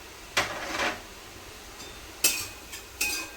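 A spinach and potato paratha filling is stirred and sautéed in a pan, with several scraping strokes of a spoon against the metal over a low sizzle.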